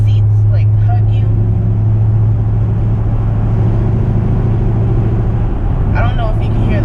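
Chevrolet Camaro SS exhaust rumbling steadily from inside the cabin while driving, a constant low engine drone under the whole stretch, with a voice talking over it.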